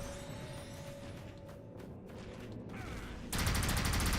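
Gunfire from the first-person shooter game NecroVisioN, a sparse run of weapon shots that ends in a sudden loud blast of noise, heard faintly over a low game background.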